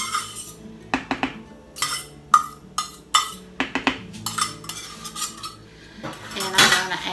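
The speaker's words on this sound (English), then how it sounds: "And just give this a good stir." Sour cream and cheddar are stirred into a simmering taco bake in a pan. A utensil scrapes and clinks against the pan in an irregular, busy rhythm, close and clear.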